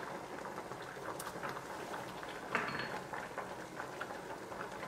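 Vegetable ramen broth simmers in a pot on lowered heat, giving a soft, steady bubbling and crackle like light rain, faint and close with one small clink partway through.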